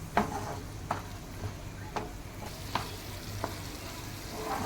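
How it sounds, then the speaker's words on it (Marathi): Chilies frying in oil for restaurant-style Schezwan chutney, a soft continuous sizzle punctuated by regular spoon-against-pan stirring knocks about once a second, close and fairly quiet. "त्याच्यामुळे जवळजवळ 10-15 मिनटे आपण हे ढवळत ठेवणार आहोत"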